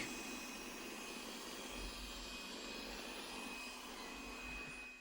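A robot vacuum running in a steady whirring drone while stuck and trying to free itself, faint and unbroken.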